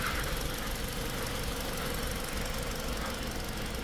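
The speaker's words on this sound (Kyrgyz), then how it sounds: "Мынакей достор, жаңы мотордун иштеши ушундай. Эч кандай лишний звук жок." A 3-litre GDI engine in a 2022 Hyundai Grandeur runs steadily at idle, with a close, continuous even hum and a faint fine ticking, loud and unbroken throughout with no voices.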